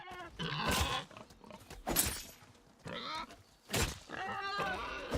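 Pigs in Nightingale give several short grunting, bleating squeals in quick bursts, fairly close, with a voice speaking between them.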